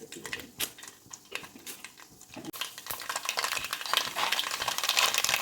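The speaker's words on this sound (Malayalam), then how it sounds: "കടുക് പൊട്ടി കഴിഞ്ഞിട്ടുണ്ട്." Mustard seeds spluttering in hot sesame oil in a pan for a village-style tuna pickle. Sharp scattered pops and clinks at first give way to a denser, louder crackling sizzle up close.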